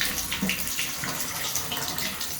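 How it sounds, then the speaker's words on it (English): Water pours steadily from a shower head in a bathtub after a new tub spout has been fitted, a continuous close hiss and splash with no talking. "Now it stops and only comes out of the shower."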